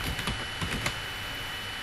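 Soft, quick typing on a computer keyboard in a quiet room, a short burst of light key clicks that trails off into steady background hiss.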